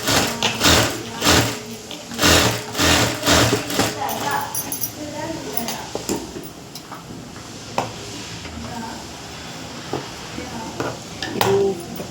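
A sewing machine stitching a princess-cut blouse runs in short, rapid bursts, each a rattling burr, with pauses and small clicks between them while someone talks throughout.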